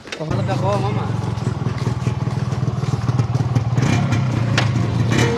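A Yamaha RX-Z motorcycle's two-stroke engine runs loud and close, a steady rumble with clattering, crackly texture throughout, mixed with voices talking nearby.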